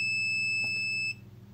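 A continuous high-pitched electronic tone from a Kaiweets KM312A multimeter's continuity test sounds for about a second, then cuts off, leaving a low hum behind.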